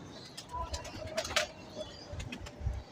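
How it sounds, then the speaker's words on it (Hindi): Pigeons cooing softly in a home loft, low repeated coos with faint chirps and rustling, close but quiet. "कबूतर हैं"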